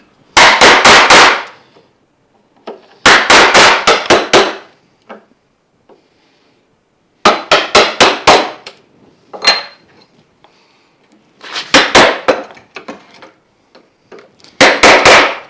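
Wood chisel struck repeatedly while chopping out a half-blind dovetail joint: close, sharp mallet-on-chisel hits in quick clusters of three to five, separated by pauses with faint handling knocks.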